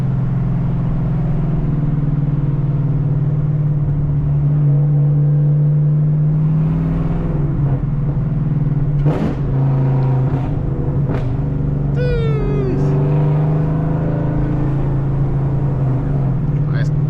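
A cammed six-speed Camaro ZL1 holds a deep, steady engine drone from inside the cabin, with brief bursts of talk and rustling partway through.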